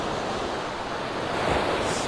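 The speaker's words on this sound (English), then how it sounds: "with these little waves breaking" Small ocean waves break steadily on Vanderbilt Beach in North Naples, Florida, a continuous close surf wash with some wind noise on the microphone and no talk.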